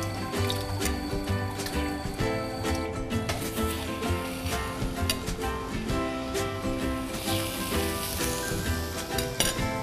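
Food sizzles in a frying pan during a televised cooking segment. A loud, continuous close-up hiss is broken by sharp crackles and pops and the occasional clink of stirring.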